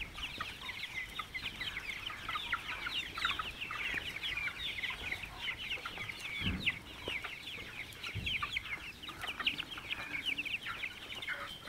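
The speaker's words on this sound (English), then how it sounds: "These are the Swarnadhara chicks. They are 40 days old, 40 to 45 days old." A flock of 40-to-45-day-old Swarnadhara chicks clucks and peeps continuously while eating weeds on an organic poultry farm. The chatter is busy and overlapping, at moderate volume, with a few louder clucks close by.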